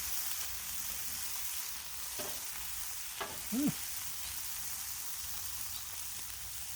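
Beef fried rice sizzles on a Blackstone griddle, a steady close hiss broken by a few spatula scrapes and taps, with no voices.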